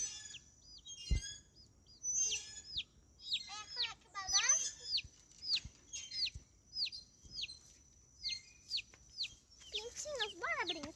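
Baby chicks cheep in a rapid, repeated series of high chirps from close by, with a few rooster-like calls mixed in and brief handling noises between them.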